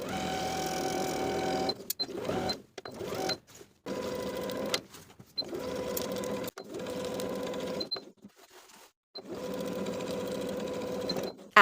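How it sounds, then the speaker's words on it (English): Sewing machine running a quarter-inch seam around a linen shift dress, in several steady stitching runs broken by brief pauses and clicks where the fabric is pivoted. "Now I'll sew all the way around with a 1/4 inch seam allowance"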